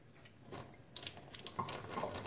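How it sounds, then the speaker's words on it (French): Lukewarm water poured into a container for a saline nasal rinse, a brief soft gush and splash that swells after a short quiet start, faint and close, with no speech. "Donc j'ai mis de l'eau."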